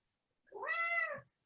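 A single clear cat meow indoors, rising and falling over about a second, close and fairly loud with no talking over it.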